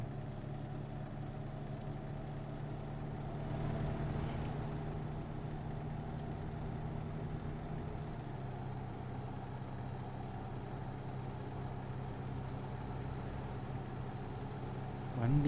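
A truck engine in American Truck Simulator drones steadily through the whole stretch, pulling a livestock trailer, with a low even hum that rises slightly around the fourth second. A brief knock comes at the very end.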